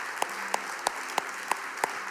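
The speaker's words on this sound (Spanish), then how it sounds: "un fuerte aplauso al Señor." During a Spanish-language church service, a congregation applauds with a firm, regular beat of claps standing out above a steady background of applause.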